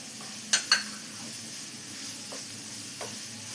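Carrot, chopped green chilli and curry leaves sauté in a pan with a steady sizzle and hiss, broken by two quick stirring scrapes near the start and a couple of fainter ones later.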